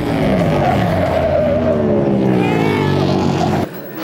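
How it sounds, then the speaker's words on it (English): Flat track motorcycle racers scrub their tires into turn 1, a loud, close screech and engine whine rising in pitch for several seconds before cutting off abruptly. "racers were scrubbing their tires going into turn 1"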